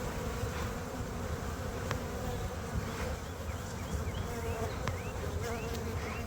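Honey bees at a beehive fill the air with a dense, continuous buzzing swarm, close and steady, with individual bees whining past now and then.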